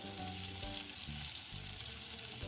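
Garlic-ginger paste and onions sizzle in a pan while cooking a restaurant-style paneer lababdar, giving a steady, close frying hiss throughout with a faint tonal hum underneath.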